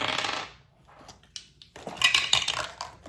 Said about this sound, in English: So I'm just dropping some of the dice